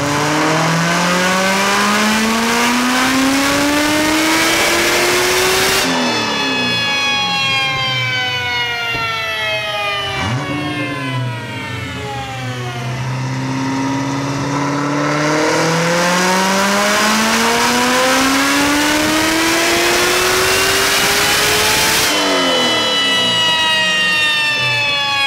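A Kong 2650-supercharged C6 Corvette ZR1 engine revs hard on a dyno through rising pulls, its pitch climbing steeply then dropping as the throttle closes, repeated several times, loud and close.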